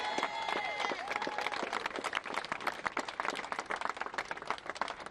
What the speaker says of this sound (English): he returned to the stairs of St. Sabina and Auburn Gresham to thundering applause from supporters